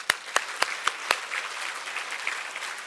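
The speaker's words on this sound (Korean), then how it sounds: "우리 그 하나님께 감사로 박수하십시다." Congregation applauding during a Korean church service, a few sharp, separate claps at first, then a softer sustained patter of clapping from the pews.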